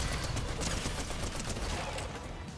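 A boss fires a shotgun in a video game, heard as a dense, loud barrage of gunfire that stays steady and harsh throughout, with no talk in between.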